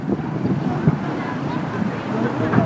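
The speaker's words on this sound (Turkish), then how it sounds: "Şanlıurfa'da dün akşamdan bu yana şiddetli rüzgar etkisini devam ettiriyor." Strong wind in Şanlıurfa, Turkey, roars continuously, buffeting the microphone with a dense, rushing noise that swells and gusts slightly.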